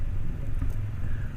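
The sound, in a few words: Can-Am F3 1330cc Rotax engine accelerating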